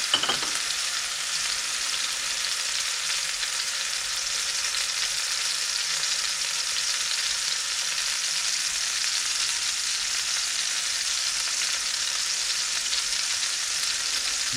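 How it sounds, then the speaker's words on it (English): A beef roast sears in a very hot pan, giving a loud, steady, unbroken sizzle that carries on alone with no voices. "So make sure you have a nice hot pan, and we're going to just sear it"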